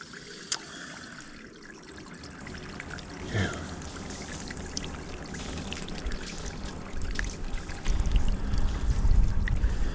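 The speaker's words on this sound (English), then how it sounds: "Just pour a bucket of water from the other side of the building," A bucket of water poured onto a concrete ramp, a trickling, splashing flow that builds steadily and gets louder toward the end, heard close up with no talking.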